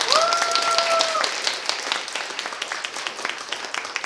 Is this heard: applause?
yes